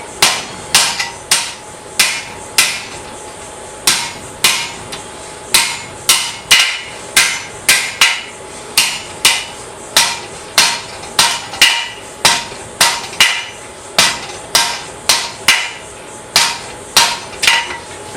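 Hammer blows on hot iron being straightened at a blacksmith's anvil, some two dozen sharp ringing strikes in a fairly steady rhythm, close and loud with no talk.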